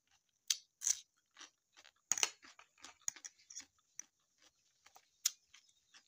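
Homemade pickled garlic cloves chewed close up, quiet irregular crisp crunches and clicks spread over several seconds with short gaps, no talk.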